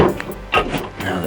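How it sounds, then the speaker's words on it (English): An empty drawer is pulled out of a cupboard during a house renovation, giving a few short, close scraping and knocking sounds over a low rumble. "I can get rid of that drawer"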